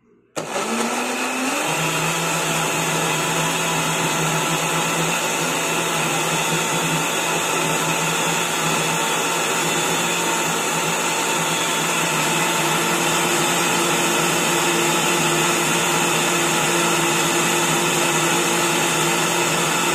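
An electric juicer makes apple juice, starting up abruptly and then holding a loud, steady motor whine with a constant high pitch for the whole stretch.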